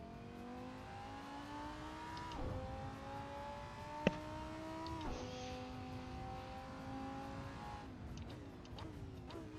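A GT3 race car engine on the Daytona road course in the video game Assetto Corsa revs up and drops as gears shift repeatedly, with a sharp click near the middle and other engines faintly behind.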